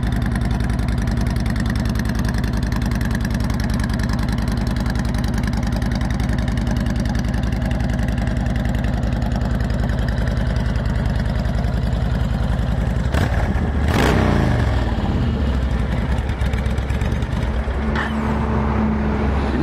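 A 2010 Honda Sabre VT1300 motorcycle engine idles with a steady, close, loud rumble, then a sharp rev swells around the middle and settles back to a low idle, with no voices.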